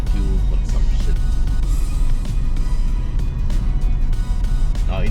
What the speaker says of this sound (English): in terms of noise insulation, you can hear traffic coming past